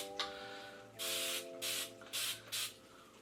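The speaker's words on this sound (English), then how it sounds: "So I'm gonna take my spray bottle and just do a little spritz in my hair" A spray bottle spritzes water onto curly hair in four quick close bursts of hiss, with a softer one at the start, over a faint steady background tone and no talking.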